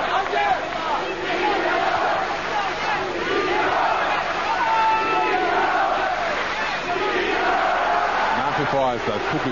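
Arena crowd at a professional boxing match roaring and shouting in loud, sustained waves, with a commentator talking over the din throughout.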